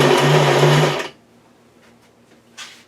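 An Almond Cow nut milk maker grinds with a loud, steady whir for about a second, then cuts off abruptly. Near silence follows, broken by a faint click near the end.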